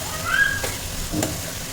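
Broad beans tipped into hot oil with turmeric, green chillies and curry leaves in a home kitchen pan, giving a soft steady sizzle with two brief clatters as they are added and stirred.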